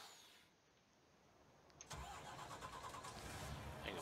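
A truck engine in Farming Simulator 19 cranks and catches, then settles into a steady mid-pitched idle with a slight rev, close and loud with no talking.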